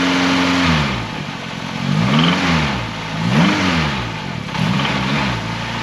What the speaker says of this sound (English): That's a rod knock.